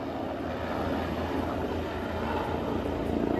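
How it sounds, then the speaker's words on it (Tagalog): A helicopter carrying a patient passes overhead before landing, a broad noisy rumbling roar that swells slightly toward the end, heard outdoors with no talk. "may helicopter na dumaan. Ang ingay-ingay."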